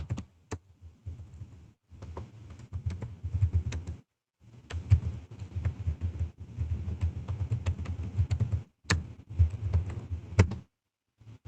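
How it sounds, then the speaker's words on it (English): Computer keyboard keys clatter in quick uneven bursts as a command is typed into a terminal, close and fairly quiet, with short pauses between runs of keystrokes. "I want you to open your terminal and type this code,"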